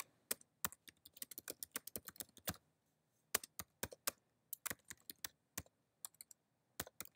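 Typing on a computer keyboard, sharp close key clicks in quick irregular bursts with a short pause partway through, quiet surroundings and no talking.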